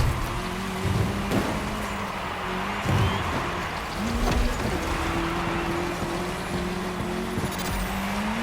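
A race car engine drones steadily and fairly loud in The Crew Motorfest during a cross-terrain race on tarmac, with revving pitch shifts and occasional bumps over continuous driving noise.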